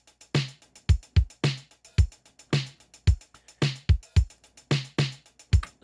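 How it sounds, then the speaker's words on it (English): A synthwave tambourine plays steady sixteenth notes with accented shakes, over a deep thumping beat in a tight, even rhythm. "So a tambourine in 16th notes using"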